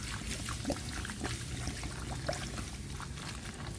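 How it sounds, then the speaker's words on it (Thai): Steady fizzy pouring of soda water over shrimp and ice, with light crackling bubbles, continuous and close throughout. "ก็เทน้ำโซดาลงไปค่ะ"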